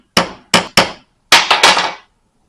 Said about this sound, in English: just have the hammer just pound it flat